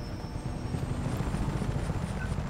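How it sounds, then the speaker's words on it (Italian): Helicopter in flight in the video game Just Cause 3, a rocket-armed gunship, giving a steady, loud rotor thrum with low-frequency chopping throughout, no talk over it. "Questo tra l'altro dovrebbe essere l'elicottero che è anche il lancio a razzi."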